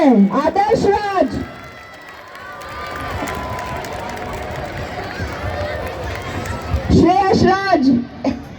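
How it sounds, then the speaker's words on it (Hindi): Students at a school's Republic Day celebration break into a sustained burst of clapping mixed with crowd noise, framed before and after by someone speaking over a loudspeaker. "ये बाजुओं का दम दिखाकर ताली बजाओ"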